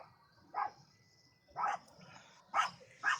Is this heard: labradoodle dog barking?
yes